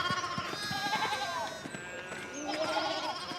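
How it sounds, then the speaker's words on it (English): Sheep in a video game bleat loudly and close, two drawn-out wavering bleats, one after the other, with little else around them. "Get on my way, sheep. I'm trying to explore."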